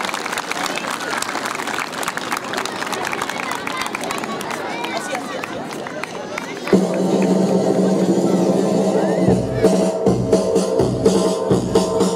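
Applause and cheering from a school audience for a student performer at a Mother's Day celebration in Arequipa, a dense wash of clapping and crowd noise that swells louder midway and continues steadily to the end.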